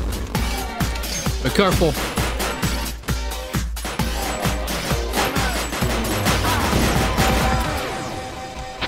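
Rapid gunfire fills a Crisis VRigade 2 virtual-reality shootout, sharp repeated shots cracking in an uneven rhythm close by, with people talking over the shooting.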